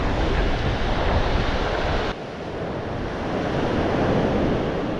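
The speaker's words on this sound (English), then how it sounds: "Here comes a bigger wave" Steady roar of ocean surf breaking on the beach at Manasota Key, loud and close, with constant wash and wind noise on the microphone, no voices.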